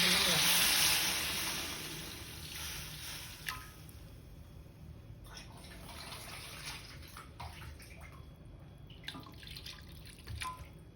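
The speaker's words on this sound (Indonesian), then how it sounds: "Setelah itu aku tambahin air." Water is poured into a pan while cooking a chicken and tofu stir-fry: a loud, close splashing pour for about two seconds that fades into softer trickles and scattered drips.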